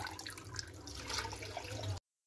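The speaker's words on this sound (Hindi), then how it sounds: "तो दो से तीन दफ़ा हम इसको अच्छे से पानी से धो लेंगे" Cow kidney is rinsed under running water in a home kitchen, with splashing, dripping and sloshing close by for two seconds before cutting off abruptly into silence.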